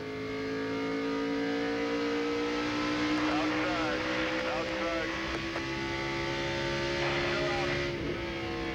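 NASCAR Craftsman Truck Series race trucks roar around the track during the 2000 Grainger.com 200, a continuous loud engine drone with shifting pitch as trucks battle for position, heard under race commentary.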